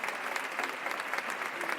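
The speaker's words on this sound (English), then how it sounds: "Clapping?" Steady applause from an audience fills the whole stretch, dense and continuous clapping at moderate level, used as an effect in a werewolf podcast audio drama before a gameshow host's welcome.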